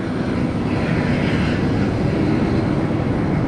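Steady airplane cabin and engine roar on a fixed-wing aircraft after landing on a flight to Montana, a loud continuous broadband rumble with no talk over it.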